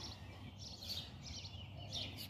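Small birds chirp outdoors from a front porch on a morning with passing rain showers, a few bright, moderately distant calls recurring over a steady low background murmur.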